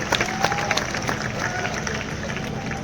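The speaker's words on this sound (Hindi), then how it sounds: "एक बार जोरदार तालियों से इसको, युवा को आप तालियां दीजिए।" Audience applause at a large all-India poetry gathering (kavi sammelan) in Baraut, a steady wash of clapping and crowd noise carrying through the whole stretch, with a faint voice briefly over it.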